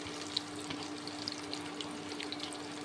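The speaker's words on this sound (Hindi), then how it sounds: "अब ये वाले पकौड़े हम फ्राई कर रहे हैं" Corn pakoras deep fry in hot oil, giving a steady, soft bubbling sizzle that continues evenly throughout with a few faint pops and no voices.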